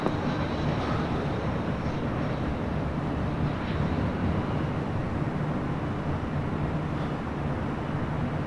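A Southwest Airlines airliner at LAX, bound for Las Vegas, gives a steady, loud broadband jet roar that holds evenly throughout with no talk over it.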